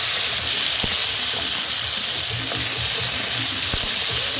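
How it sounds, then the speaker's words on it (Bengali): Potatoes and eggplant fry in oil tempered with whole cumin and bay leaf, giving a loud, unbroken hiss of sizzling with a couple of faint knocks from stirring. "তারপরে কিন্তু আলু বেগুনটা ঢেলে দিলাম দিয়ে কিছুক্ষণ নাড়াচাড়া করবো"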